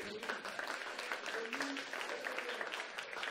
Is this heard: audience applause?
yes